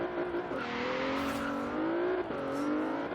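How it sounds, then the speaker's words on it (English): A Lexus IS350 F Sport engine in the Forza Horizon 3 racing game revs up with a rising pitch, drops sharply at a gear shift, then climbs again, steady and close with no talking. "the sound that comes from the engine, just very deep rumble"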